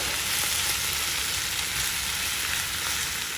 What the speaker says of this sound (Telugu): మసాలాతో ఇంకొక 2 నిమిషాలు వేయించుకుంటే